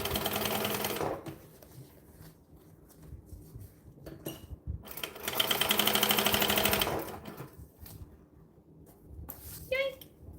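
A sewing machine stitches a bag in two motorised runs, the second longer and steadier, with quiet handling noises between.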